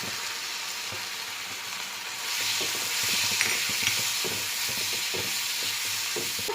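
Tomatoes with chilli flakes and paprika powder fry in a pan for a vegetarian lasagna sauce, giving a steady close sizzle with scattered stirring scrapes and no talk.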